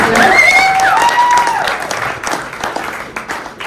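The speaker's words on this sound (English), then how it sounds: "let's give Kyle a applause" A crowd claps in a steady burst of applause that gradually thins out, with a brief cheer rising at the start.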